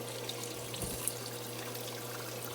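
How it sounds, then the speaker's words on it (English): Steady trickle of water draining down through holes in a vertical tower garden, a continuous gentle splatter over a low mechanical hum, with one brief louder splash near the start. "Just drips down through holes."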